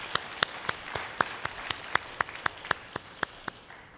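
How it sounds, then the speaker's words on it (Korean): Church congregation applause heard as sparse, distinct hand claps in an irregular rhythm, roughly a dozen sharp claps spread evenly, moderately close against a quiet room with no talking. "우리 박수로 또 격려하겠습니다."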